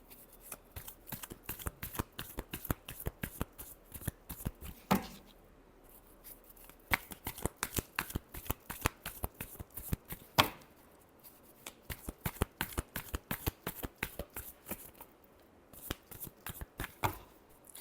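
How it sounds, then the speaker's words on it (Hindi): Tarot cards are shuffled close by in rapid bursts of crisp riffling clicks, separated by short pauses, with no one talking. "Last shuffle."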